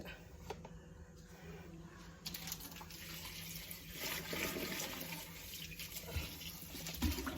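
Water runs and splashes into a cooking pot with a hollow, shifting tone, steady and moderately close, with some clattering in the background.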